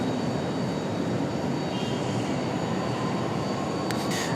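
Icelandair jet airliner landing at Raleigh-Durham International, a steady, fairly faint broadband engine rumble and roar heard from a distance, with no voices.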